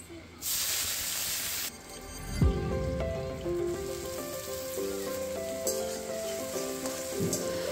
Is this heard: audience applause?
no